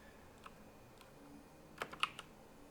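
Keys clack on a computer keyboard in a short burst of quick, quiet presses near the end, with a couple of isolated taps before it and no one talking.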